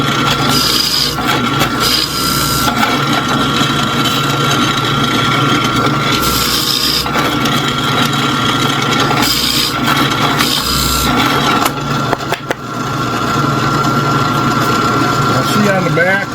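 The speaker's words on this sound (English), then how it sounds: "So let's drill these three" Power drill boring three holes through wood for a large wooden toy train caboose, a steady loud motor whine running continuously with a brief dip near the end as the bit comes through.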